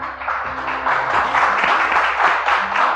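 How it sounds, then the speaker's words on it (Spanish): A church congregation claps loudly and steadily for a few seconds, many hands together in a dense, sustained burst close by, with no voices over it. "Dale un fuerte aplauso, Señor."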